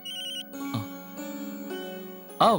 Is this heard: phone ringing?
yes